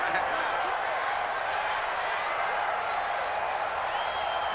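In a football video game simulation, a stadium crowd gives a continuous, dense roar with no breaks, loud and even throughout.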